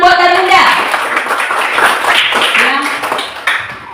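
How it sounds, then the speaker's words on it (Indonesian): Audience applause in a classroom-style setting, a steady patter of many hands clapping for a student presenter, loud and close throughout with some voices mixed in. "Tepuk tangan buat Dalinda."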